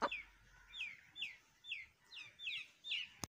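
Aseel chickens give a series of about six short rising clucks and chirps at a steady pace, fairly close and clear over a quiet background.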